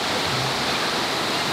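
Steady broadband roar of the multi-tiered waterfall at Erawan Falls in Thailand, continuous and fairly loud with no breaks, heard alone without talk.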